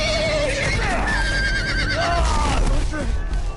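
A horse in the video game Telltale Game of Thrones whinnies loudly in a shrill, wavering neigh, repeated a few times over busy background noise.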